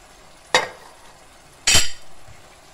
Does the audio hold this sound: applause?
no